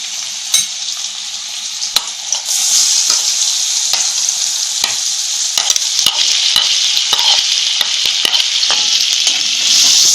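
Onion and green chili hitting hot oil in a pan on low flame for a spinach and chana dal sabzi: a bright hiss rises suddenly and holds steady, dotted with crackles and spatula clicks, loud and near.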